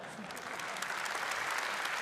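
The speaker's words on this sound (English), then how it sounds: "let's give him a huge round of applause" Steady, dense applause fills the hall for a racing driver at the Gran Turismo World Series 2025 Round 4 Manufacturers Cup event in Fukuoka, with loud continuous clapping from a large crowd and no talk over it.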